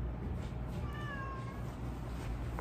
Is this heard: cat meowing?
yes